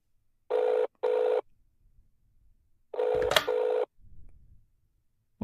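A telephone call being placed: two short bursts of touch-tone dialing, a pause, then a longer ringing tone with a click, followed by a faint low rumble, with no talking heard.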